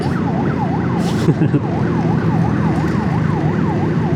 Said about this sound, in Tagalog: Ito at merong ambulansya sa ating harap.